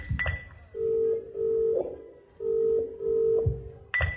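A phone call is placed: a quick run of keypad dialing tones, then a steady ringing tone in repeated long bursts with pauses, clear and close.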